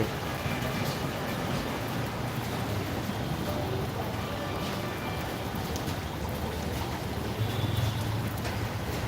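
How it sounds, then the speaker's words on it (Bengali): Steady rain falling continuously, a dense even wash of sound with a low rumble underneath and no voices. "এই মুহূর্তে বৃষ্টি হচ্ছে আমি যেখানে রয়েছি সেখানে প্রচুর পানি রয়েছে বৃষ্টি পড়ছে"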